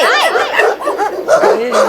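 A person imitates a dog barking, yapping and whimpering in quick, loud, close bursts during a comedy sketch.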